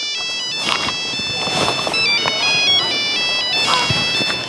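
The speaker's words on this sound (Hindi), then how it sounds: "अरे फोन क्या?" A mobile phone ringtone plays a repeating electronic melody, loud and continuous, with voices and outdoor bustle underneath.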